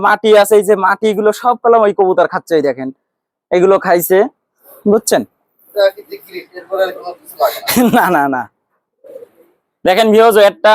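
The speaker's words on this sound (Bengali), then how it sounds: "মদ্দা ডাকতিছে" A male high-flying pigeon coos in repeated throaty phrases, close by, with a voice talking over and between the calls.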